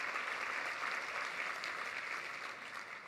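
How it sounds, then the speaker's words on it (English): A crowd claps for award honorees at the Treehouse Champions 2024 event, sustained moderately quiet applause heard from a distance, holding steady and then easing slightly toward the end. "So can we give them a round of applause?"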